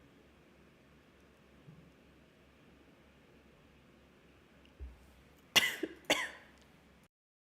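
A couple of short, sharp coughs close to the mic after a quiet stretch with a faint throat-clearing sound.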